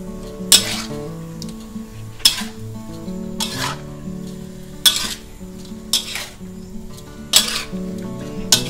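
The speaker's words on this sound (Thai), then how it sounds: "แล้วก็ผัดให้เข้ากันค่ะ" Shrimp and broccoli being stir-fried over the highest heat, with a metal utensil striking and scraping the pan in periodic clanks about once a second over a low sizzle, close and with no talking.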